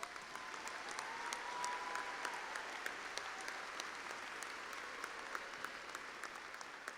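A commencement crowd at Angelo State University applauds graduates in a large hall, with steady, even clapping from many hands that sounds fairly distant and continues throughout.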